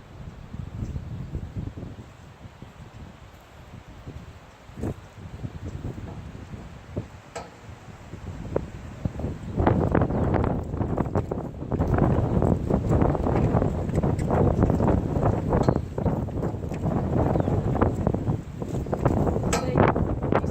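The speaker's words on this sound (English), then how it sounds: "I'm sorry for all this wind out here." Wind blows outdoors where a horse is being worked on the ground, a rough buffeting roar hitting the microphone that grows heavier and more constant midway, with faint ticks and rustles beneath.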